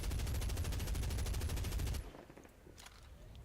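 An M4 carbine fires full-auto in Medal of Honor Beta, a loud rapid burst of evenly spaced shots for about two seconds, then it stops and a faint tail and quiet ambience remain.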